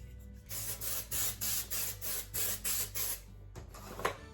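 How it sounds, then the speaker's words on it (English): Close waxwork hair spray gives about eight short, evenly spaced hissing bursts in quick rhythm, then a brief pause and a final softer puff. "I'm going to prep the hair with waxwork spray."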